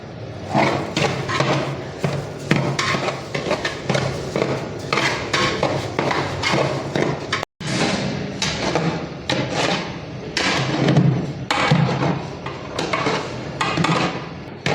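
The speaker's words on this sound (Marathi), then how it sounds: "तर हा रवा या ठिकाणी भाजत आहे" Semolina (rava) dry-roasting in a pan for sheera, with a metal spoon scraping and clanking against the pan in a steady stirring rhythm, close and continuous throughout.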